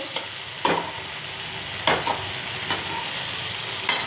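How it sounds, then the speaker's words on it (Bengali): Tindi curry with yogurt and sugar stir-fried in a pan, a steady close sizzle broken by a few sharp scraping stirs of the spoon, no voices. "চিনি দিয়ে এবার আর একটু কষিয়ে নিচ্ছি ভালো করে"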